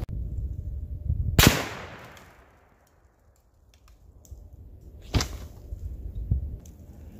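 A rifle fitted with a Leatherwood M1200 scope fires tracer rounds outdoors: one loud sharp shot with a long fading echo, then a quiet gap, then two more cracks, the last one fainter.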